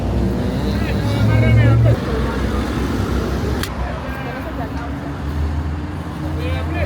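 A bus climbs a curvy mountain road out of Lima into the Andes, its steady engine drone and road rumble filling the cabin at a constant, fairly loud level.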